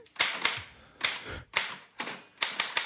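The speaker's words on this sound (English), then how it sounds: "I'm typing out the reviews." A typewriter in a comedy skit clacks in close, loud bursts of one or two sharp keystrokes, spaced about half a second apart with brief pauses between, and no talking over it.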